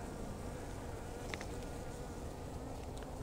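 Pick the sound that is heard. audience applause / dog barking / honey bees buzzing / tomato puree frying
honey bees buzzing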